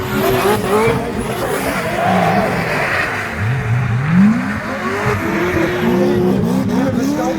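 Drift cars including a BMW E92 slide through a competition run, engines revving hard on and off the throttle with rising and falling pitch and continuous tire squeal, loud and close throughout.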